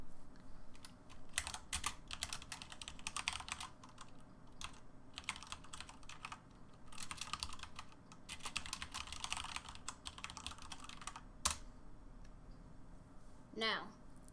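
A computer keyboard is typed on in quick bursts of clicking keystrokes with short pauses between runs, close and fairly quiet, and someone speaks along with it.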